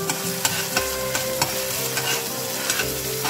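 Ginger garlic paste sautéing in hot oil in a pan, a close steady sizzle punctuated by repeated sharp scrapes and taps of a spoon stirring, with no talking.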